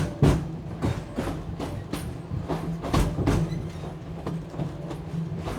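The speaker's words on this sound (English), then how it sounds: "I'm gonna have to stop the train." Wildlife Express train at Disney's Animal Kingdom rolling along with a steady low rumble and rhythmic wheel clacks, close and continuous throughout.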